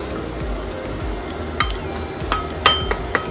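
A spoon stirs raspberry-honey burger sauce in a bowl, clinking against the side a handful of times in irregular bursts over a low background hum, with no talking.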